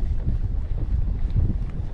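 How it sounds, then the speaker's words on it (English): Strong wind buffets the microphone on the water during a redfish fishing trip, a constant loud low rumble with gusty swells across two seconds and no talk. "Ooh, it's windy."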